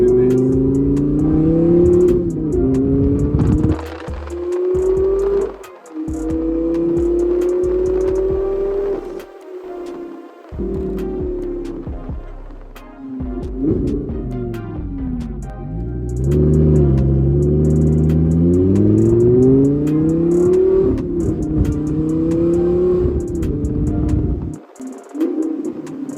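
A Lamborghini Gallardo Spyder engine revs repeatedly, its loud, close tone climbing and falling in several sweeping pulls with brief lulls between them.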